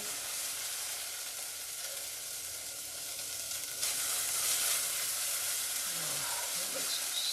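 Onions, garlic and tomato paste sauté in a pot with a continuous bright sizzle that swells louder partway through as the mixture is stirred, and faint soft scraping can be heard beneath it.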